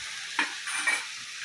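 Dakra greens stirred in a pan over medium-low flame, giving a soft hiss with a few quick scraping stir strokes, close and fairly quiet.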